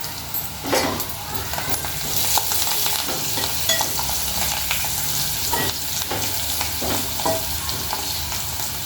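Onions frying in a pan while being stirred during home cooking of chicken fry with turmeric and mint, a steady close sizzle with occasional scraping stir sounds, no voices.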